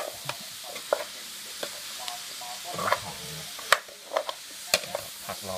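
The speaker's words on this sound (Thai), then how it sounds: "มันก็ผัดปลาหมึก" Fresh squid stir-fried in a pan for dry-style Thai basil squid, heard as a steady close sizzle broken by irregular scraping clacks of a spatula against the pan, with no talk over it.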